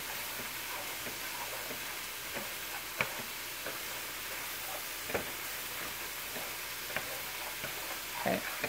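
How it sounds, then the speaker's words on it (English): Omelette mixture sizzles steadily in a hot pan as it is stirred, a continuous close frying hiss broken by occasional light scrapes and taps of the utensil, with no voices. "Stir this, remembering to put everything back in the center when you're done"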